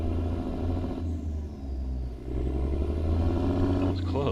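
A Kenworth T600 truck engine in American Truck Simulator, using modded engine sounds, gives a continuous deep diesel drone with a low rumble that dips briefly and then rises again under steady throttle.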